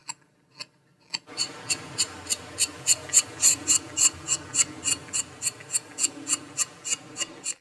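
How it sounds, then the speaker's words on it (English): Master carver hand carving a netsuke figure: a few sparse taps, then a quick steady run of light, crisp scraping strokes, close and quiet, nearly evenly timed with no talking. "the sound of Master Nakagawa carving"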